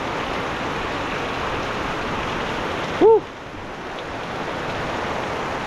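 Heavy rain pours in a steady, dense hiss throughout, with a brief voice cutting in near the middle.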